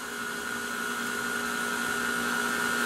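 An electric hand mixer fitted with a new attachment whirs steadily through blueberry banana bread batter, a continuous motor drone with a fixed pitched whine, loud and close, with no talking over it.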